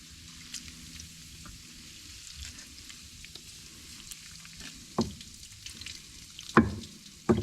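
Soft, continuous fizzing and crackling as a base solution is poured over battery acid on a tractor battery, quiet throughout with a few louder splashes and knocks near the end, and no voices.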